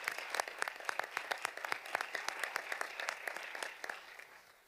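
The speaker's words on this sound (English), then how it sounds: "A round of applause for Ms. Padilla." A round of applause from the audience at a school board meeting honoring a Teacher of the Year, quick even clapping from a modest crowd, fairly faint and fading toward the end with no voices over it.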